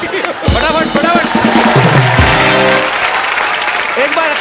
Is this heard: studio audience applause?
yes